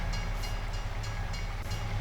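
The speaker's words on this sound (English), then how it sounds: "I always seem to get stopped by the train." A train rumbling past a level crossing in the video game Farming Simulator 25, a loud, continuous low roar with a faint rhythmic clatter of wagons, alone without speech.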